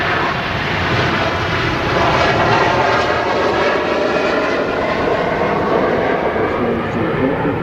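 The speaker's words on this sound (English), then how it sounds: "Here we go, Virgin Atlantic A330." Virgin Atlantic Airbus A330 jet roaring on its takeoff roll at Manchester Airport, a loud, sustained broadband engine rumble with steady intensity throughout, heard fairly close with no talk over it.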